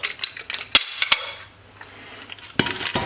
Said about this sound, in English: We're taking our boiled potato, putting them in our press